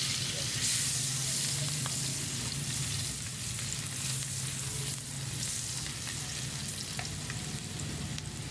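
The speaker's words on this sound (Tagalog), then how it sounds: "Tapos isunod natin yung bawang idol." Garlic frying in hot oil in a pan for squid adobo, giving a steady, dense sizzle that runs the whole time over a low background hum.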